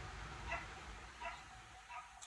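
A dog gives three short barks spaced apart, fairly faint against a steady background hum, with a bit of voice mixed in.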